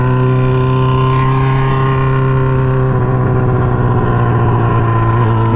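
Yamaha XJ6 and Honda Hornet motorcycles with straight-pipe exhausts revving on a group ride, a loud, close, continuous engine drone with steady harmonic tones and a slight pitch shift partway through.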